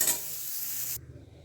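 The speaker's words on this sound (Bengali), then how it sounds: "আর কপিটাকে ভাজছি।" Cauliflower frying in oil in a pan for a vegetable dal gives a loud, close, steady sizzle that cuts off abruptly after about a second, leaving only a quiet low background.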